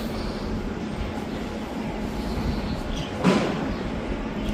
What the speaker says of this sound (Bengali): শিয়ালদা থেকে গুড়াপ স্পেশাল। এই ট্রেনটি ছাড়বে 1:45 দুপুর